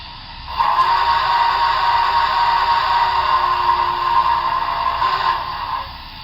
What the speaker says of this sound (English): F2, the whistle.